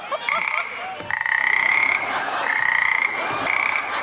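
A frog croaks in loud, repeated bursts during a Marathi comedy stage show, the calls coming in close, regular pulses with short gaps between them.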